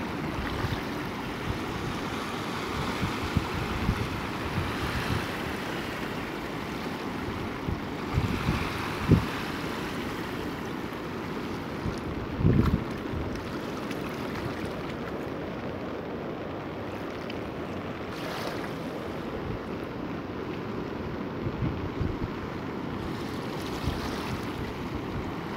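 Swollen Narayani river in flood after rain, a steady broad rushing roar of water with wind buffeting the microphone, continuous and loud with a few brief knocks.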